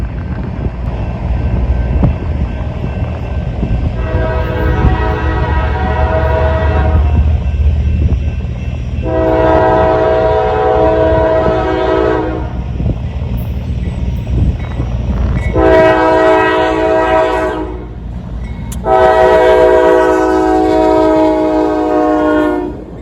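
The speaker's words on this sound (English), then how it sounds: "just the locomotive heading light to Parsons Yard, which was CSX ES40DC" A CSX ES40DC locomotive running light with no train attached sounds its horn in four loud sustained blasts, the last two longer, over a steady rumble of engine and passing rail noise, with wind buffeting the microphone in cold winter conditions.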